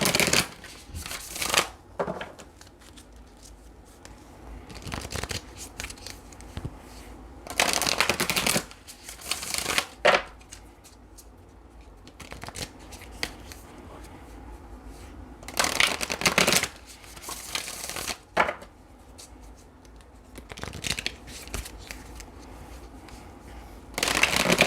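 Tarot cards riffled and shuffled in repeated bursts of papery flutter and slapping, close and fairly loud, separated by quiet pauses, with no talking.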